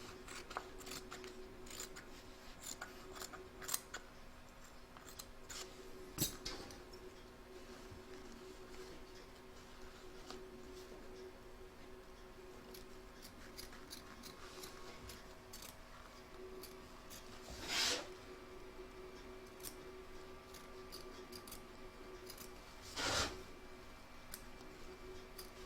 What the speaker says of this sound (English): You're now going to trim up the excess batting and cutaway stabilizer.